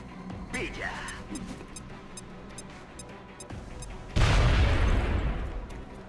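A grenade detonates in the turn-based strategy game XCOM Long War, a sudden loud boom with a rumbling tail that fades over about two seconds, following quieter gunfire and ambient game sounds.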